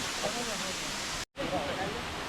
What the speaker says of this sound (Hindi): हुंडरू फॉल हमारा रांची का सबसे बड़ा वाटरफॉल है जो कि 350 फीट ऊंचा है।